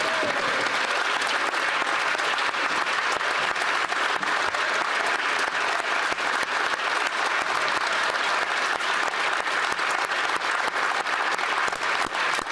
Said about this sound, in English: I guess we're supposed to clap.